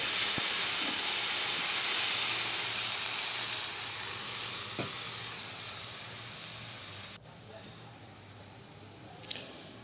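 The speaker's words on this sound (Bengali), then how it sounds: "একটু নাড়াচাড়া করে তারপরে জল দিয়ে দেব। তো এবার জল দিয়ে দেব।" Water poured into hot oil in a pan while cooking a spicy pabda fish curry gives a loud, broad hiss and steam that slowly fades over several seconds before cutting off, with a faint clink near the end.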